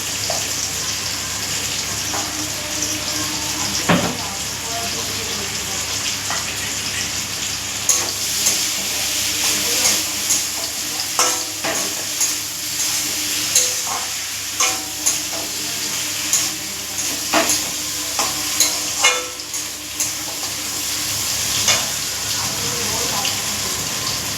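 Poppy seed paste fries in oil in a pan, a steady close sizzle broken by repeated scraping and clicking stirs at an irregular rhythm.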